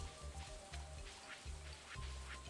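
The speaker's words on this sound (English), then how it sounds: "I got lucky that it's raining today" Video game rain falls as a soft, continuous hiss of drops, faint and steady, with low recurring thuds and hums beneath it.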